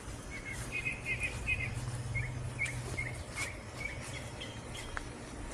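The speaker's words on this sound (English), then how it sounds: "You can hear the birds." Birds chirp and call outdoors on a quiet, windless day, short repeated bright notes scattered over a soft, steady background hum of insects.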